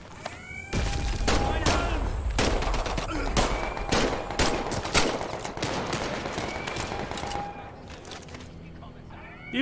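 Scientists fire guns in the Medal of Honor VR video game in repeated sharp bursts and single shots spread over several seconds, with in-game voices and effects underneath.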